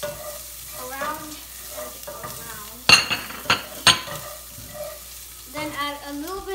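Curry liver with black pepper stirred in a pan: a steady frying sizzle under several sharp clinks and scrapes of a utensil against the pan, close and clear, with voices in the background at times.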